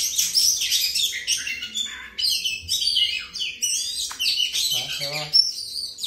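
Close, bright chirps and whistled phrases from an oriental magpie-robin kept as a cage bird, calling almost without pause, with someone talking briefly near the end.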